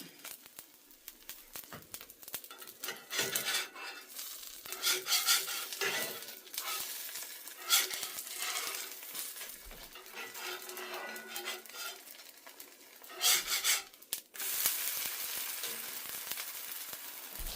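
A mixed-bean dosa fries in ghee on a pan, giving a steady loud sizzle with scraping and clinking of a metal spatula as it is stirred and flipped, and no talking.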